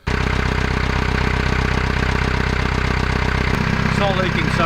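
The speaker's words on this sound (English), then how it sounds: "It's the first time I've started the engine in over a month" A boat's inboard engine idles steadily just after a gasket repair, restarted for the first time in over a month; a loud, even mechanical throb starts abruptly and runs on without a break, with a faint higher whine near the end.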